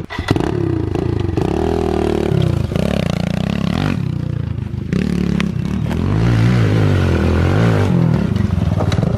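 An electric-start pit bike engine revs close by, its buzzing pitch climbing and falling through repeated throttle surges, with rattling clatter mixed in.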